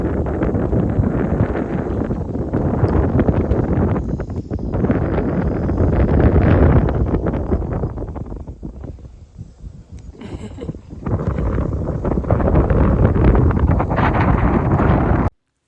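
Strong wind buffets the microphone atop a 3,405-foot lookout tower built in 1947, a loud, steady roar that dips briefly near the middle before surging back.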